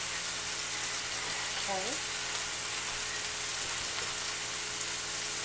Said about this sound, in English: wait for these while we saute our onion